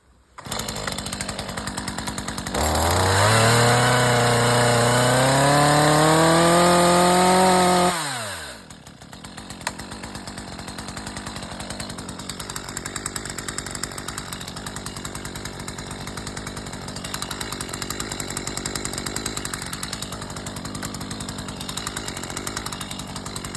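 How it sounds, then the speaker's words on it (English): A chainsaw revs up loud and close for a felling cut through a tree, its pitch climbing and holding for several seconds before dropping to idle. Afterward comes a lower rumbling chatter that runs on under faint background noise. "I'll just do a little simple standard felling cut from the back"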